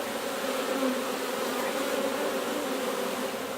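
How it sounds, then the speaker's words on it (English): Honey worker bees buzz on a hive frame, a continuous close, dense drone of many wings holding steady throughout with no pauses. "There's all your gorgeous little worker bees on there"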